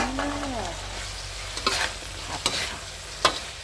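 Fried pork cracklings get stirred into chili paste in a hot pan, with a soft steady sizzle under several scraping stirs and clacks of the utensil, close and fairly quiet.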